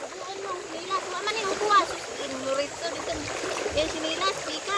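A strong stream current rushes and splashes nearby, a continuous churning wash of water with voices talking over it.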